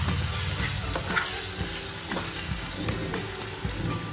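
Spices sizzling and frying in a pan for dhaba-style dal methi, a steady crackling hiss with occasional stirring scrapes and knocks, close and moderately quiet.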